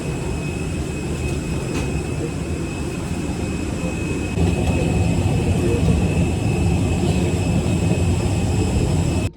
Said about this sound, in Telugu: ఫ్లైట్ కూడా ఇంకా మూవ్ అయితే అయింది.